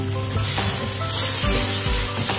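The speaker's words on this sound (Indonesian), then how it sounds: "ini saya buatkan tepung maizena ya untuk pengental. Lalu aduk rata." Bitter melon and chicken wings, Hong Kong style, stirred in a hot pan after cornstarch thickener is added. A steady close sizzle runs throughout, with a few scraping stir strokes and no talking.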